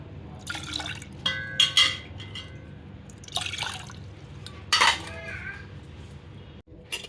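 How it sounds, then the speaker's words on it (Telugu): Water is poured from a glass into rice and lentils in a pot for baby food, heard as several short splashing pours with gaps between them, close by, with light metal clinks and no talk. "ఇప్పుడు ఈ రైస్లో వాటర్ పోసేసుకుందాం."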